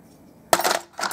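Hand tools clink and rattle together in a metal toolbox: one sharp metallic jangle, then a brief pause and a second shorter rattle, close and fairly loud.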